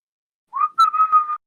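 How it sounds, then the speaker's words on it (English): A person whistles a short, clear melody nearby: a rising note followed by a wavering sustained tone with slight pitch bends. It is heard alone against silence during a tabletop roleplaying game session. "whistle a little bit,"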